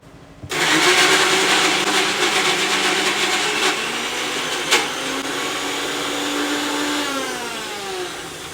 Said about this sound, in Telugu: ఇక మూత పెట్టేసుకొని మిక్సీ పడుతున్నా